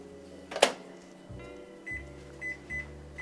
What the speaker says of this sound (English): 3/4 of a cup of butter that I'm going to melt in the microwave